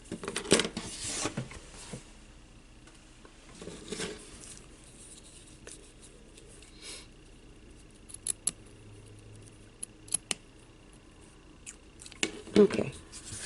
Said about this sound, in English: Snip it.